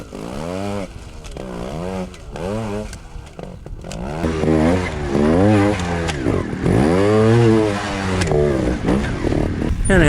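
Trials motorcycle engine on a back-tire wheelie line over rocky slabs, revving in repeated rising and falling bursts that grow louder and more sustained toward the end, close and loud.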